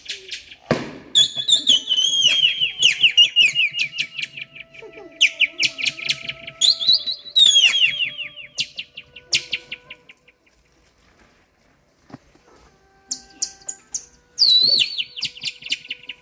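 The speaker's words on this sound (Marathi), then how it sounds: "पोपट कसा बोलतो।" A pet parrot gives a series of loud, shrill, repeated calls with brief pauses between them. A short quiet gap falls near the end before a final burst of calls.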